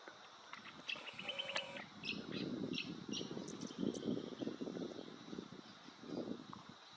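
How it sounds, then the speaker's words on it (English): Spangled drongo calls at a lakeside birding spot, several short metallic chirps and whistles scattered over a steady bed of wind or distant engine rumble, fairly faint, with other birds twittering. "And another spangled drongo."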